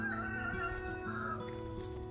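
Backyard chickens in a vegetable garden in Florida, clucking and calling steadily close by, with a crowing-like rooster note among the flock, sounding alone with no talk.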